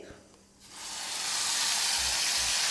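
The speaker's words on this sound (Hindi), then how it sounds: "जीरे को हम चटकने देंगे, आधा चम्मच जीरा है।" Half a spoon of cumin seeds sizzles and crackles in hot oil, a loud steady frying hiss that builds after a brief quiet start and carries on alone.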